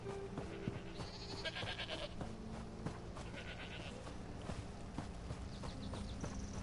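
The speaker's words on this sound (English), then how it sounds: "I found a sheep, guys." A sheep bleats in the Elder Scrolls Online video game, a few wavering calls over steady clip-clop hoofbeats and footsteps with busy game ambience underneath.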